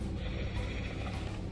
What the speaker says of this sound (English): And this is sewing machine.